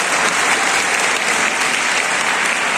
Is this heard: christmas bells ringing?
no